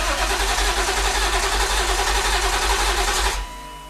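BMW E36 M3 engine cranking over on the starter with the fuel pump fuse pulled, a steady loud churning whir for about three and a half seconds before cutting off abruptly.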